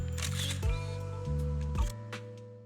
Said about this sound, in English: As you hit the shutter, the phone's flash bursts